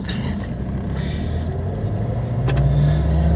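A car driving along a road, a steady close engine and road rumble that swells slightly toward the end, with no one speaking.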